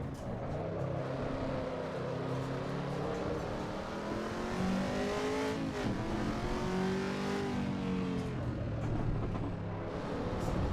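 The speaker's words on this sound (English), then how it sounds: "when the car is idling and you're in the low RPM band, it definitely does sound digital" A race car engine revs in the AC EVO racing game, its pitch climbing and falling through the rev range, loud and steady with sweeping harmonic tones and no talking.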